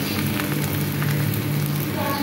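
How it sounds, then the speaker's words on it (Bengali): Slice of bread frying in a pan for a sandwich, a continuous crackling sizzle with dense tiny pops, close and fairly loud, with no voices. "বন্ধুরা, রুটির স্লাইসটা ভালো করে ভেজে নিতে হবে, উল্টি পাল্টিয়ে ভেজে নিতে হবে।"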